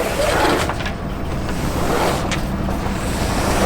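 Wind buffets a sailboat heading out of Portsmouth on a close beat into the wind, with waves slapping and washing along the hull in a steady, roaring churn that stays loud throughout.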